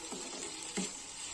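Fish curry spice paste fries in a small amount of oil, a soft, steady sizzle with a brief stirring scrape, heard alone and fairly quiet.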